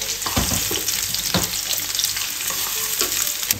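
Red onions sauté in a pan for a Filipino beef stew, with a bright steady sizzle and sharp scraping stir strokes close by, the clearest near the start, and no talk.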